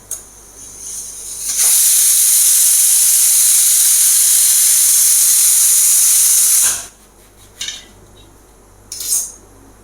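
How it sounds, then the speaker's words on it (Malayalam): A pressure cooker cooking horse gram lets out one long, loud, close hiss of escaping steam that lasts about five seconds. Two brief bursts follow after it stops. "ഇനി ഒരു രണ്ട് വിസിൽ വരട്ടെ"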